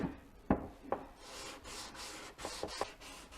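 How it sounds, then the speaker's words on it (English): A hand sanding block rubs back and forth over the curved outer fairing of a Harley Ultra Classic during paint prep, a steady close scratchy rasp with a few sharper knocks and strokes, no talking. "I'm going to take the sanding block and I'm just going to work this curve till I'm satisfied with it"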